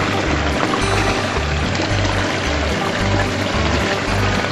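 Water rushing through a home-built recirculating sluice box carrying material and black sand, a loud, steady close-up gush with a low pulsing pump-like throb underneath, no talking.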